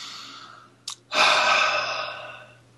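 A person takes deep breaths nearby, a short sharp inhale followed by a long, loud, slowly fading exhale, with a faint steady hum underneath.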